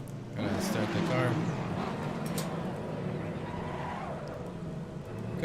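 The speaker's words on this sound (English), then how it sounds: "Gonna start the car." A Porsche race car's engine starts up and settles into a steady idle in the sim racing game Assetto Corsa Competizione, a broad continuous rumble that fills the clip from about half a second on, with a voice talking faintly underneath.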